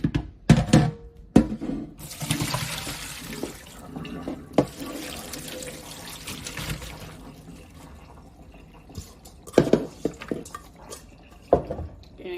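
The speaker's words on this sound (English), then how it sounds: "I'm just going to strain the water off" Water poured off freshly rinsed cabbage leaves in a kitchen sink, with splashing, trickling and a running tap, punctuated by a few sharp knocks of a pot or strainer against the basin.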